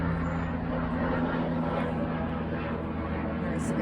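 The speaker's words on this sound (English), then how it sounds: "Nice airplane flying over." A single aircraft passes overhead outdoors, a steady, fairly distant low engine drone with a sustained hum that holds evenly throughout, with no voices over it.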